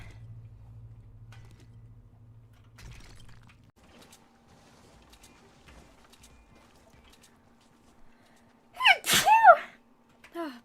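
A single sharp human sneeze bursts out near the end after a long quiet stretch of faint room noise and a low hum, followed by a brief softer breath.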